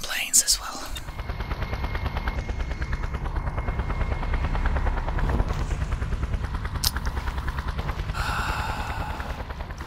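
A helicopter in the game Just Cause whirs with a steady low rotor chop, while bursts of gunfire crack over it and a voice speaks briefly at the start.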